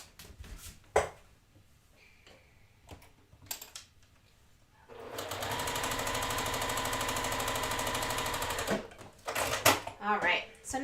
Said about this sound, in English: And now I'm going to sew a 1/4 inch down, a 1/4 inch seam down.